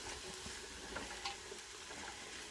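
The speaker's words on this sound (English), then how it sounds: "Hear that sound? That's what we want. It's sauteing really nicely." Vegetables for a keto cabbage soup sauté in a pot, giving a faint, steady sizzle and hiss with a few small crackles throughout.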